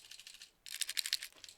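A rusted, ocean-damaged Nintendo DS shaken by hand, loose parts inside rattling in two quick bursts of dry clicking, close and fairly loud, with a short pause between them.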